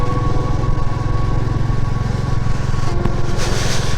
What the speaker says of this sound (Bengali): আমরা এইখান থেকে 6টা বাইক যাচ্ছি